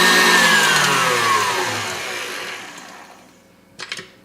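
An electric hand mixer whirs loudly while beating egg whites to stiff peaks for a German cheesecake, its steady hum slowly fading and dropping away near the end, followed by a brief clatter.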